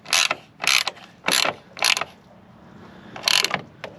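Ratchet wrench snugging down a ground bolt in a BMW engine bay, short bursts of quick metallic clicking, five in all with a pause before the last, close and moderately loud.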